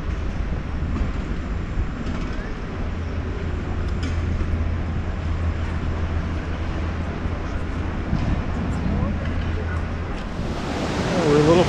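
Water rushing through the Needle Dam on the Reuss river in Lucerne makes a constant loud broadband roar, steady and unbroken, swelling slightly toward the end.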